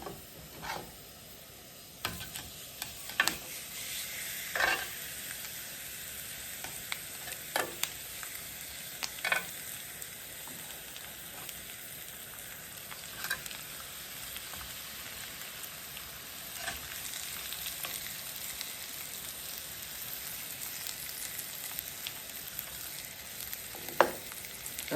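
Jerk pork chops frying in a hot skillet: a soft, even sizzle with scattered spitting pops and occasional clinks of tongs or pan handling, quiet and close with no voices.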